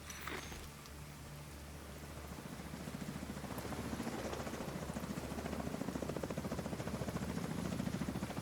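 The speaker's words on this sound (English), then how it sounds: "Enemy helicopter approaching." Enemy helicopter approaching in The Division 2, a low rhythmic rotor chop that grows steadily louder over a dense rain-like wash, faint at first and building toward the end.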